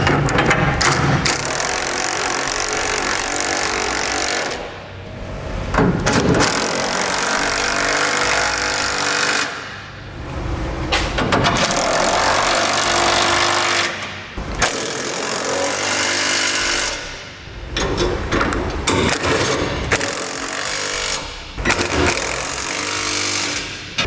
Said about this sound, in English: we'll go ahead and tighten down our hardware. We're going to need a 3/4 inch wrench and a socket to do this.